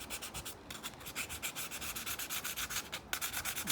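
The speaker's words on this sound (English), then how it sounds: "Just using a little bit of this sandpaper" Sandpaper scrubbed by hand over the engine area of a 2006 BMW E87 118i during a vacuum pump oil leak repair, giving close, steady rasping strokes in a continuous back-and-forth rhythm with no talk.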